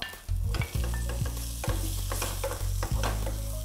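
Leek whites and onion sizzle steadily in a hot saucepan while a utensil scrapes and stirs in repeated strokes, close and fairly loud.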